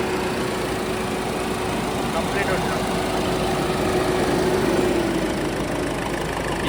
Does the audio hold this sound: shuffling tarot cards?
no